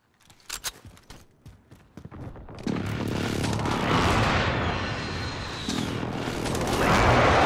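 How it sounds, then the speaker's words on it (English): In a video game, a precision airstrike hits: a rapid string of sharp close blasts, then a loud continuous rumbling roar of explosions that swells and rolls on. "Friendly precision airstrike inbound."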